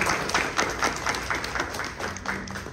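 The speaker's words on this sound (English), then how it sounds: "So she deserves a round of applause." An indoor audience at a dissertation event gives a round of applause, a dense, even patter of many hands clapping close by for the whole stretch without voices.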